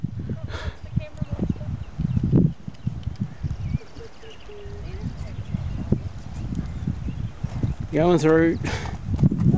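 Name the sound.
horse hooves clip-clopping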